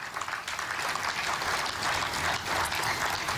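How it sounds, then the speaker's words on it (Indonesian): An audience applauds steadily and loudly at the official ceremony forming the Gaza Peace Board, a dense continuous patter of clapping with no speech. "ini dia tepuk tangan hadirin menyambut resmi dibentuknya Dewan Perdamaian Gaza"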